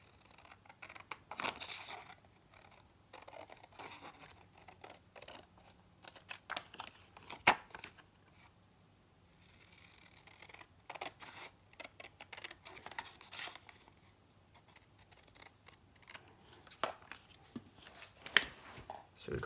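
Scissors cutting through card paper for a fan fold card, a series of crisp snips and paper rustles at close range, irregular and spread across the stretch, with no talking.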